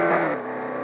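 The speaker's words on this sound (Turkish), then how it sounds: "Gaz veriyoruz yavaşça." A manual-transmission car in a driving video game pulls away as its engine revs up with a smooth, steady hum, loud and close, with no talking over it.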